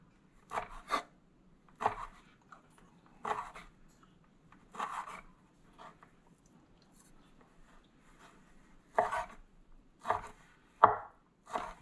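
Fruit is diced into small pieces on a cutting board, a series of close, crisp knife chops in short bursts separated by quiet pauses, alone without talk.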